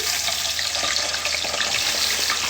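Potatoes frying in hot oil for burgers and fries, a steady dense crackling hiss that holds continuously and fairly loud throughout, with no voices.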